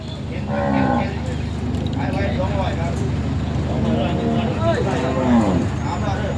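Buffalo low and moo repeatedly at Som Poi Noi cattle market, with the calls close and clear beneath someone talking continuously over a busy market background.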